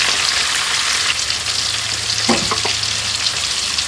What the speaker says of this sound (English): So I'm gonna refry the vegetable a little bit